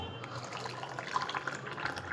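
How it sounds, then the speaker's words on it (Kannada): Water pours for a cup of green tea, a faint, close trickling and splashing like a small stream filling a cup, heard alone and quietly for a couple of seconds. "ಸ್ವಲ್ಪ ನೀರು ಹಾಕ್ಕೊಂಡು,"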